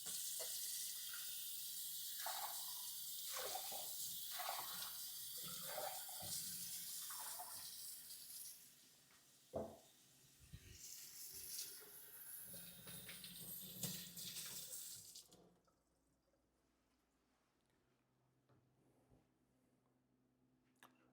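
Cocktail tools rinsed under a running tap, a steady loud rush of water with clinks and knocks of metal and glass, cutting off to near silence in the last few seconds.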